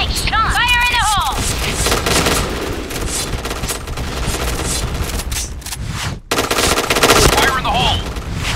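Point Blank gunplay on the Luxville map, with sustained rapid automatic gunfire that rattles on almost continuously, interrupted only by a momentary cutout. Electronic game effects and voice callouts are mixed in.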